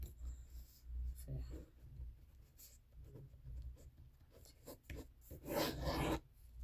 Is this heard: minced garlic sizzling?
no